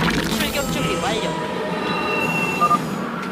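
Train rolling along rails in the video game StarCraft II, a steady rumbling wash with metallic wheel squeal and a few brief higher squeaks near the end, with faint voice-like sounds mixed in.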